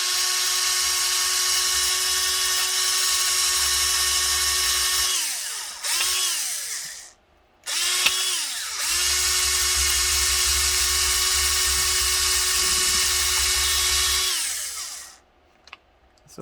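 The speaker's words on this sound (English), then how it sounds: "we're just going to run it up on the sandpaper" A steady, high-pitched motor whine from a Tamiya Mazda RX-7 model car with its tire spinning on sandpaper, loud and close, dropping briefly and revving back up twice before cutting off near the end.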